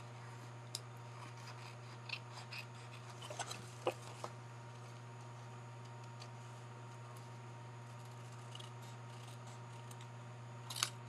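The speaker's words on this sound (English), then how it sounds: "Then you grab your snips and cut around the envelope edges" Snips cut around the edges of a paper envelope, giving small scattered snipping clicks that are faint and sparse over a steady low hum in a quiet room.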